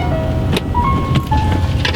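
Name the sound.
2010 Nissan Altima car driving on test drive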